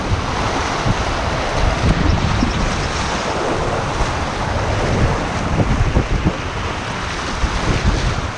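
Rushing water of a small rapid on the Lower Owyhee River at low water, a steady loud broadband roar close by, mixed with wind buffeting the microphone throughout.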